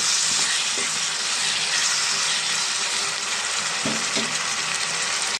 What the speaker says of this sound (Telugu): దీంట్లో అల్లం వెల్లుల్లి పేస్ట్ను 1 టమాటా వేసేసుకున్నామండి. పచ్చిమిరపకాయలు మగ్గించుకున్నాం.